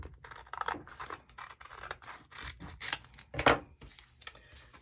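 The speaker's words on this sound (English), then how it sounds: "I'm just gonna put a crease in that one so I know where I'm gonna cut it." Scissors and hands working junk journal paper while making a recipe journal, a close series of irregular crisp snips, scrapes and rustles with one sharper crackle near the end.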